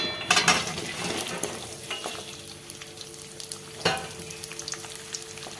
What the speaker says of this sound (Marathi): कढईमध्ये तेल घेतलं आणि आता ह्या तेलामध्ये ह्या भाज्या मी टाकते